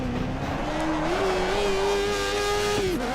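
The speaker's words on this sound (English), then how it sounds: "Ooh, those tyres are seizing." Race car tyres seize and squeal on a 1980s-era Formula 1 car at Spa in F1 2013, a sustained wavering screech over a roaring engine, loud and close for about three seconds.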